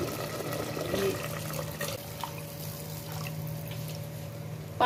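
Water is poured into a pot of cooking Hyderabadi mutton sutriyan, a steady, moderately loud splashing stream running throughout with no talk.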